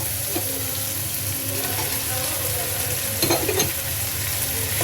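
Velvet apple frying in a pan with prawns and salt, a continuous sizzle with a brief burst of stirring and scraping near the end and no talk.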